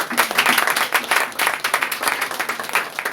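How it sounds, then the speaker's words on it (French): A church congregation applauds at the close of a sermon, a dense burst of many hands clapping steadily and fairly near, with no talk over it. "On acclame le Seigneur"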